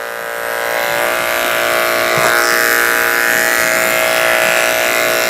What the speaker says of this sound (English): I like to shave out the back legs with the 7 blade.